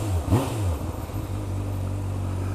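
A 600cc faired sport motorcycle engine revs sharply once near the start, then settles into a steady, loud drone that holds to the end.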